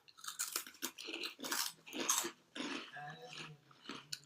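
Loud, close crunching and chewing on a sweet and salty assorted New Year snack, with repeated bursts of bites and munching over about four seconds and no speech.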